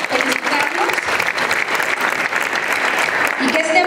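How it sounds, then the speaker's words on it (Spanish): Audience applause at a scholarship award ceremony, steady dense clapping from a large crowd lasting throughout, fairly close and even in loudness. "quiero pedirles ahora sí un aplauso para todos ellos en conjunto"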